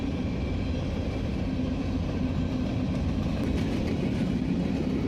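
A Union Pacific freight train rolls past on the rails with a steady low rumble and a faint metallic clatter, loud and continuous throughout, with no voices.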